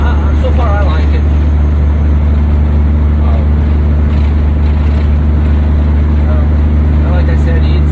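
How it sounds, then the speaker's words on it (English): A 1998 Peterbilt 379 truck engine with a 30-inch resonator exhaust, heard from inside the cab as a loud, steady low drone while riding, with faint talk under the rumble. "I put 30-inch resonator, and now it's loud, but it's not drony inside."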